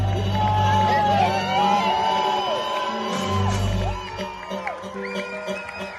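A large crowd on a pontoon in Brest cheers and whoops loudly for a sailor's arrival, with shouts rising over a dense roar of voices and a deep rumbling background, easing slightly toward the end.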